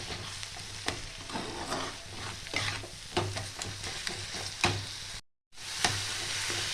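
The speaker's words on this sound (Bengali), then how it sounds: "ভালো করে আমি এটা নাড়িয়ে চাড়িয়ে নেব।" Eggplant bharta being stirred and fried in a pan, with a steady sizzle under repeated scraping strokes of a spatula, close and moderately loud, with a brief dropout near the end.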